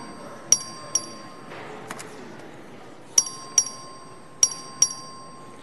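Voting bell in the Texas House chamber during a record vote, struck in sharp metallic dings that come in pairs, spread out and ringing clearly over quiet room tone.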